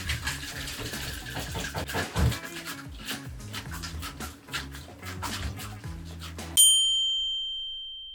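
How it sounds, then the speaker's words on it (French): Cold water being added to a warm chocolate mousse mixture, a continuous splashing, running-water wash with small clinks, ending in a bright metallic ding that rings on and slowly fades. "je vais le refroidir avec un tout petit peu d'eau fraîche"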